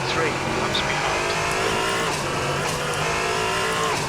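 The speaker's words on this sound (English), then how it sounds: "Here I have a really big lockup. I almost spun the car" Racing sim car engine roaring steadily through a big tire lockup during an online multiclass endurance race with LMP3 and GT cars, a continuous loud drone with some tire squeal, a voice talking over it.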